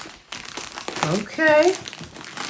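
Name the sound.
unwrapping a book parcel from World of Books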